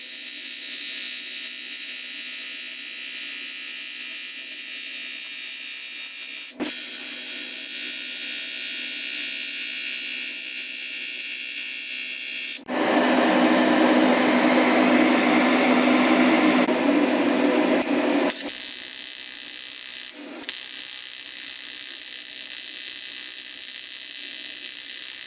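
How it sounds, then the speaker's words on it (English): A hole saw drills out the inside of welded intercooler piping for a turbo Vortec 4200 Volvo swap, a close, loud, steady whine broken by brief stops, with a harsher grinding stretch partway through. "and then I'll just drill out the inside."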